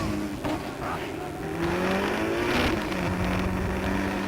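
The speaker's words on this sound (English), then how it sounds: "Mark Maloney driving that RX-7 late on the break" Race cars roar through the Dover circuit in Jamaica, including a Mazda RX-7 braking late, with loud sustained engine drone and revving, cars passing close with a brief tire squeal amid the continuous racing noise; a commentator talks over it.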